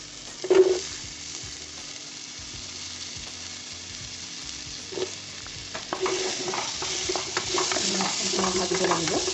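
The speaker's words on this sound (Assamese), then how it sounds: "প্ৰথমে মই এচামুচ বাটাৰ দিলোঁ। বাটাৰখিনি দিয়াৰ পাছত মই শুকান জলকীয়া দুটা," Butter and two dried red chillies fry in a pan for butter chicken, opening with a clatter and a soft hiss that swells into a louder, crackling sizzle with stirring near the end, while someone speaks quietly.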